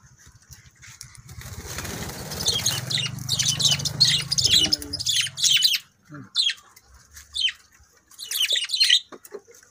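Parakeets chirp in rapid, bright bursts, lively and close, over a low engine-like rumble that fades midway, leaving clusters of twittering calls with short pauses between them.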